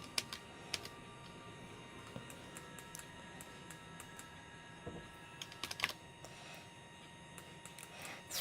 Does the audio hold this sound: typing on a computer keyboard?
yes